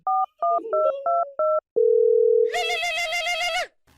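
Six quick telephone keypad beeps sound in a row, then a steady tone holds before a buzzy, pulsing ring takes over.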